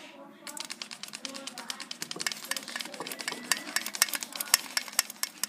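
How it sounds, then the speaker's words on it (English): Almond flour shaken through a metal sieve for macarons, a fast run of light rhythmic taps and rattles close up, steady and fairly quiet. "And now to sift the almond flour."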